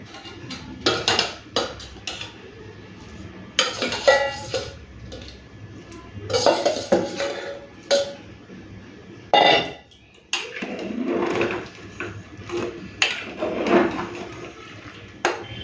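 Fried potatoes tumble into a pot of mutton curry amid bursts of metallic clinking and clattering of spoon against pot, loud, irregular clashes separated by quieter gaps.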